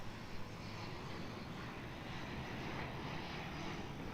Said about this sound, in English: We've got the ATR just in front of us now.